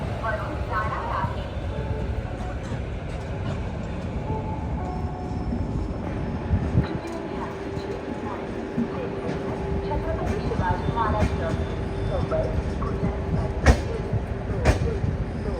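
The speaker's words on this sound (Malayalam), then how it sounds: "കറക്റ്റ് 7:15 തന്നെ പൂനെന്ന് ഇതാ ഡെക്കൻ ക്വീൻ എക്സ്പ്രസ് എടുത്തിരിക്കുകയാണ്." The Deccan Queen Express, pulling out of Pune toward Mumbai, gives a steady rolling rumble heard from inside a coach, with occasional clanks and background voices over it.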